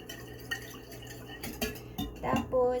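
Loaf bread ingredients with eggs being mixed in a bowl, with light scraping, clinks and taps of a utensil against the dish, soft and close, under a quiet background hum.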